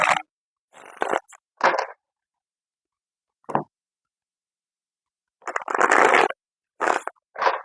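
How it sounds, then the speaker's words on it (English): A deck of tarot cards is shuffled by hand in several short, close bursts of papery riffling and sliding, split by stretches of silence, with a longer flurry near the end. "I'm going to shuffle a couple more times until it feels right for me"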